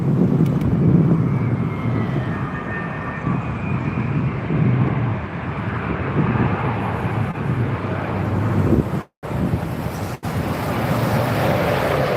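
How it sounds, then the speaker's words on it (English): Virgin Atlantic Airbus A330neo landing on runway 27R at London Heathrow, a loud continuous jet roar with wind rumble that holds steady and then cuts out briefly near the end. "Virgin A330 Neo by the looks of it."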